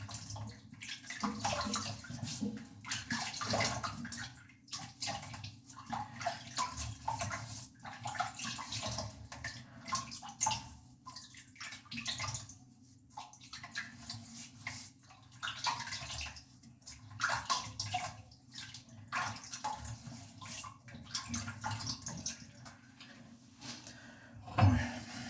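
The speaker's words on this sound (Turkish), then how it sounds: "Evet, yavaş yavaş yüzümü yıkayayım." Water splashes at a sink while someone washes their face, in repeated close bursts of splashing and rinsing separated by brief pauses, with a low steady hum underneath and no talking.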